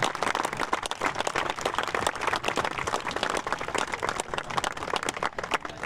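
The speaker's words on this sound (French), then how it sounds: "avec vos applaudissements, bravo à Sébastien Cavaillon" Dense, sustained applause from a crowd at an equestrian eventing prize-giving in Saumur greets the winner, steady and loud with no voices over it.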